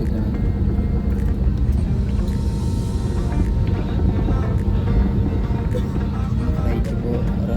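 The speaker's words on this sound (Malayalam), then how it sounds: "ഫ്ലൈറ്റ് ഇപ്പോൾ റൺവേയിലൂടെ നല്ല പോയിക്കൊണ്ടിരിക്കുന്നുണ്ട്." An Air India A320neo airliner rolling down the runway for takeoff, heard from inside the cabin as a steady, heavy engine roar and low rumble that holds without a break.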